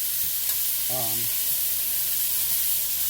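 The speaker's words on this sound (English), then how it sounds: "Let it saute in my pan there." Onion, green pepper and celery sautéing in a pan for lamb stew, giving an even, continuous frying hiss close by, with a brief voice-like tonal sound partway through and no clear words.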